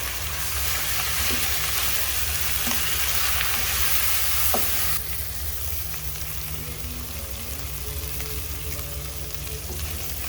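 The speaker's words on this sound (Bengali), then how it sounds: "ভালো করে পেঁয়াজ রসুন ভাজি করে নেব" Onion and garlic frying in a pan, a steady broadband sizzle that runs throughout, a little louder in the first half and then settling slightly quieter, with faint stirring clicks and no talk.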